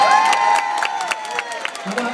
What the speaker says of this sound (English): please put your hand together and give them just a little cheer of your own